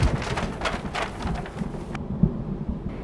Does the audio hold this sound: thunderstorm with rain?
yes